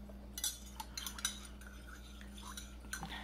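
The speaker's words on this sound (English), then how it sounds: "Give it a little stir" A spoon stirs stevia into a cup of vanilla oolong tea with a few soft, close clinks against the cup over a steady low hum.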